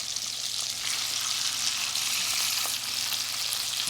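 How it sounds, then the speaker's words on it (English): Salmon frying in warm oil and butter gives a close, steady, dense sizzle with faint crackles running unbroken throughout, no voices. "So now that our oil and butter is nice and warm, we're gonna go in with our salmon."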